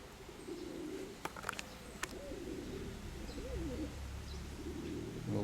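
Pigeons coo softly in low warbling calls against quiet outdoor background noise, with a few faint clicks and flutters nearby.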